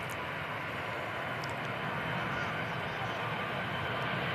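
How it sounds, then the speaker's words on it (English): An EasyJet airliner departs Manchester Airport bound for Paris, its jet engines a steady, loud broadband roar that holds at an even level throughout, with no talk. "Oh, EasyJet to Paris."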